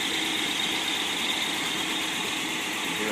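A Y-block V8 runs steadily with its muffler on, a smooth, fairly quiet, even hum with a faint whirring fan, heard close with no voices.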